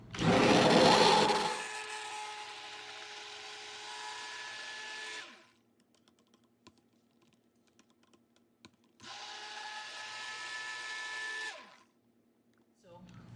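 A motorized hand blender mixing cold process soap batter whirs in two bursts, the first starting loud then settling, a pause of near silence, then a second steady run.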